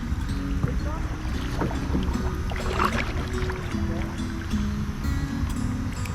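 A kayak is paddled along the Indian Slough backwater, with close, rhythmic water splashes and wind rumble across the microphone, and voices faintly audible in the background.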